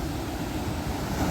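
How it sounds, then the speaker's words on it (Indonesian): Big ocean waves surge at a beach in Paranggupito, a loud, continuous roaring wash of surf mixed with wind buffeting, with no voices. "ombaknya gede banget"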